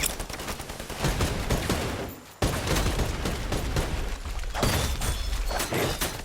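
Rapid bursts of gunfire from the Predator video game, loud and close, with dense fusillade-like volleys running almost continuously and a brief break partway through.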